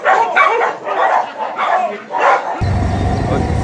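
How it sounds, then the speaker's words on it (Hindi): Several dogs bark in the morning outdoors in India, a run of loud, close, repeated barks and yips, followed by a steady rush of wind or ground noise. "यहाँ पे कुत्ते हैं बहुत ज्यादा, मस्ती कर रहे हैं सुबह सुबह"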